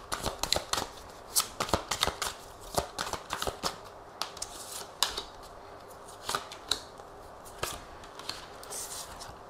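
Tarot cards are shuffled by hand, making a close, quiet series of crisp riffling snaps and slaps in an irregular rhythm, with no one speaking.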